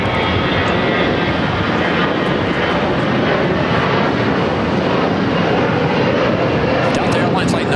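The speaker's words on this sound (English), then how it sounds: "Delta Airlines Flight 914 heading to Minneapolis in an A321." A Delta Airlines Airbus A321 jet airliner at LAX roars loud and steady throughout, a dense broadband rush of engine noise that never lets up.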